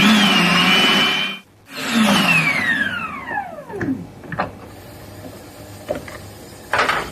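A blender blending vegan stew whirs loudly, stops briefly, then spins up again and winds down with a falling pitch, followed by a few mechanical clicks and clatters.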